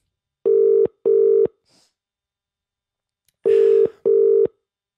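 Telephone tones from a phone line: two pairs of loud, steady electronic beeps, each pair short and evenly spaced, with a gap of near silence and faint rustle between the pairs.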